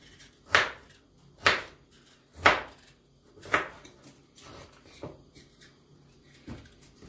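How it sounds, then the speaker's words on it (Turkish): Carrots are chopped with a knife on a cutting board in a home kitchen: about seven sharp, distinct knocks at a slow, uneven pace, loud and close at first, then softer toward the end, with no talking. "Şöyle havuçlarımı küt küt doğrayıp kızartacağım."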